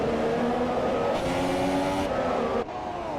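Racing cars in the video game F1 2017 roar past in a steady, loud engine drone with shifting pitch, a sharp change in tone as one car passes, with no talk over it.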